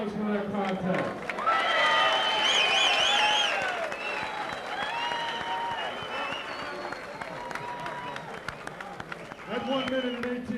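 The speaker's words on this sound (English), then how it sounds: "Ladies and gentlemen, how about a round of applause for that contest?" Boxing arena crowd applauding after a main event fight ends by fifth-round TKO, a dense wash of clapping and cheering that swells and then tapers, with an announcer's amplified voice talking over it throughout.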